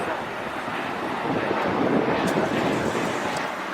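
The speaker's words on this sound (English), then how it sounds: "There goes that Viva Airbus 321 that we saw earlier." A Viva Aerobus Airbus A321 passes at an airport with a broad, swelling jet roar that builds and fades over a few seconds, heard at a distance through wind noise while a person speaks.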